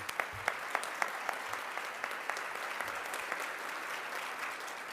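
Audience applause at an early-morning Martin Luther King Jr. celebration event, a steady moderate patter of many hands with a few sharper claps standing out, continuing evenly for the whole stretch without voices.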